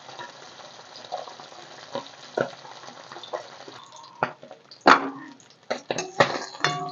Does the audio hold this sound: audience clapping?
no